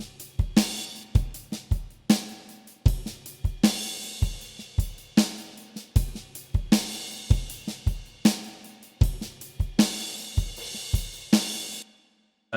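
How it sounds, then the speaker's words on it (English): A drum sample recorded in a garage for a melodic trap beat plays as a steady pattern of punchy low kicks and crisp snare or clap hits, with a clear rhythmic loop that ends abruptly after about twelve seconds. "I went into my garage and I decided to record this drum"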